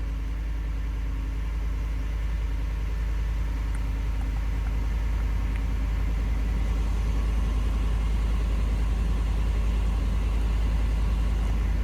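Close, steady idle of a Ford F-150 pickup's 5.0L V8, a deep, even low rumble holding constant for about twelve seconds with no voices over it.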